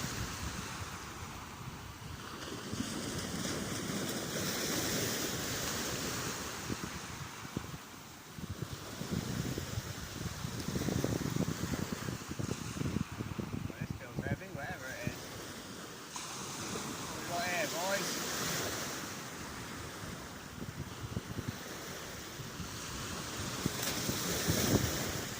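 Sea waves wash in on an incoming tide at North Denes beach, Great Yarmouth. Steady surf is churned by heavy wind buffeting the microphone, and faint voices come through now and then.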